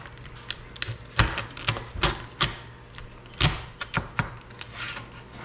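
Four fresh lobster tails cut in a home kitchen on an Alaska homestead, heard as a series of sharp, close cracking snips and thuds in an irregular rhythm, with no talking.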